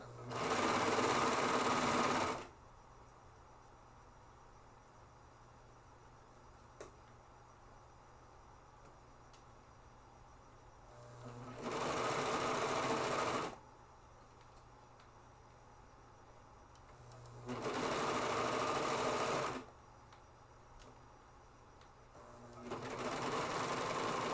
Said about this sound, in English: I love my serger because it just helps me